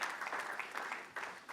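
An audience applauds at a talk about why marriages fail, the clapping dense and steady for a brief burst, fairly faint and slightly distant, with no voices over it.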